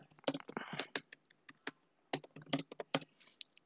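Keys clatter on a computer keyboard in quick irregular bursts of close clicks and taps, with short pauses between words while text is typed into a documentation page.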